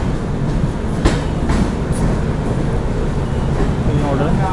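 A passenger train pulls out of Tuni station, heard from inside as a steady close rumble with rhythmic clickety-clack wheel beats over rail joints and a faint murmur of voices.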